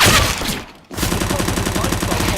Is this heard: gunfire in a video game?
yes